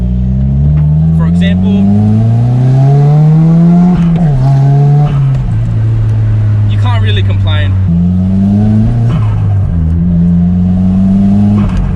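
A Nissan Silvia S15 engine revs loudly and continuously while driving, the pitch climbing through gears with brief drops at shifts, close and dominant, with someone talking over it.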